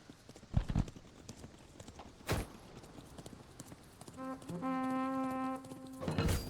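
In the video game Thronefall, horse hooves clip-clop as a few sharp, separate hoof strikes, followed by a sustained tonal horn-like note and then more hoof clatter at the end.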